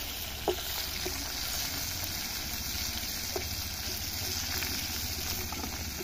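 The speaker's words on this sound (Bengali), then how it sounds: "মাছটা হয়ে গেছে ভাজা, লাল লাল করে ভাজা হয়েছে" Rohu fish fries in hot oil, a steady dense sizzle running throughout at close range, with a few faint clinks and knocks scattered over it and no voices.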